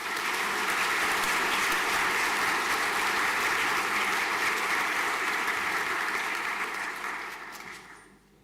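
An audience at a school senior prizegiving applauds a scholarship recipient, a thick, even roar of clapping hands that holds steady for several seconds and then dies away near the end.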